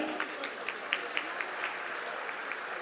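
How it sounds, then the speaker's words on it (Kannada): An audience claps at a state National Land Survey Day ceremony attended by the Chief Minister. The applause is moderately loud and sustained, with distinct individual claps rising over a steady patter for a few seconds. "ಸಂಭ್ರಮಿಸೋಣ ಚಪ್ಪಾಳೆಗಳ ಮುಖೇನ"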